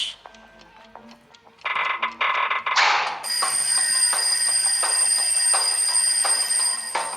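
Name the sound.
alarm ringing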